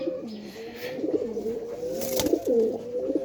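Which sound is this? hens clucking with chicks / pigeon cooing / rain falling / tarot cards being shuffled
pigeon cooing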